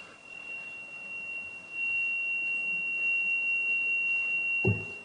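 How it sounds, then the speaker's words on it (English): A device beeps during a council meeting, a thin steady electronic tone running faintly through the whole stretch over quiet room noise, with a brief thump near the end. "I don't know why it's ringing."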